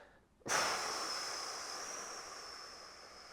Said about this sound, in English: I'll breathe out